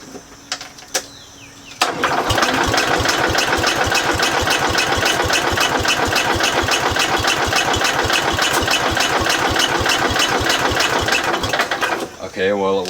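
An old 1970s tractor engine idles loudly and close by, a fast, steady chugging with regular knocks that starts abruptly after a quiet moment and runs on before cutting back near the end.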